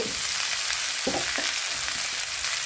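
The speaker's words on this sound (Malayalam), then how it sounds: "ഇത് നന്നായിട്ട് ഇളക്കുക." Spinach and curry leaves frying in a pan with mustard seeds while being stirred, giving a dense, continuous sizzle broken by a few quick scraping strokes, close and without talk.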